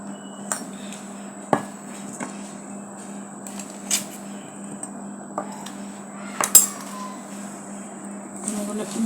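A spoon stirs mango cake batter with sugar and a pinch of salt in a bowl, giving scattered sharp clinks and scrapes at an uneven pace over a steady low kitchen hum.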